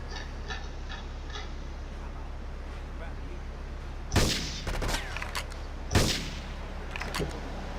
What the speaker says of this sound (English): Can I use the sniper again?